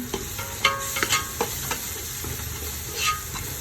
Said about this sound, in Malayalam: ഗരം മസാല 1 ടീസ്പൂൺ ഇടാം. പൊടി നന്നായിട്ടൊന്ന് ചൂടാക്കാം.